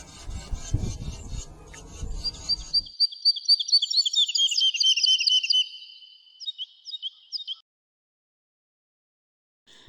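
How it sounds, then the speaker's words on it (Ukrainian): A swallow twitters softly and melodiously in a run of high, quick chirps and trills. A rough rasping noise comes first, then the bird sings alone and stops, leaving silence. "Ластівка щебече дуже мелодійно, приємно, неголосно"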